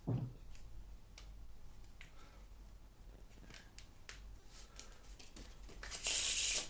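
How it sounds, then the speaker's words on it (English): A deck of playing cards is handled with soft clicks and taps, then given one short, loud riffle shuffle near the end, close to the microphone. "I'm going to give the cards a quick shuffle and muddle them up"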